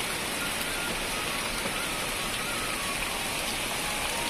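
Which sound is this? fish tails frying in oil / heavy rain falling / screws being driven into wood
heavy rain falling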